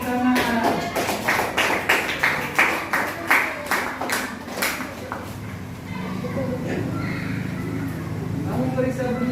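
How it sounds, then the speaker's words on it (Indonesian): Schoolchildren in a classroom clap in a quick burst of rhythmic, sharp claps that fade into room murmur, with a teacher's voice and children talking around it. "Weh, tepuk tangan."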